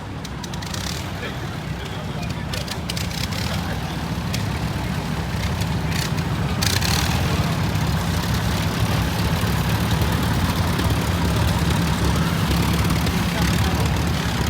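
A 1941 John Deere H tractor runs in a parade, its low engine throb steady and close beneath broadband crowd and street noise, with a voice talking over it.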